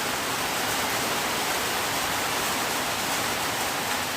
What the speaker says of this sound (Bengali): সম্পূর্ণ বৃষ্টি হইতেছে, দেখেন সম্পূর্ণ বৃষ্টি।